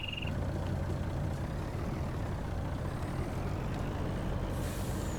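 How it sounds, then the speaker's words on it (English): Video game truck engine rumbling steadily throughout, with a brief high beep near the start and a hissing burst of air brake release toward the end. "All right, let's see if I can get that truck out of there."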